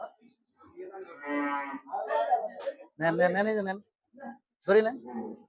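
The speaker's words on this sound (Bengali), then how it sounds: "একটি গরু বের হলে সব গরুই ডাকাডাকি শুরু হয়ে যায়। এই যে ডাকাডাকি শুরু হয়ে গেছে," Cattle on a farm holding animals for the Eid al-Adha sale call out in loud, drawn-out moos, with several calls in quick succession, and handlers shout over them.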